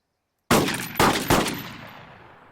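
Automatic fire from an M4A3 rifle with 5.56 rounds in the video game Arma 3: after a short silence, three loud, close bursts come in quick succession, each trailing into a fading echo.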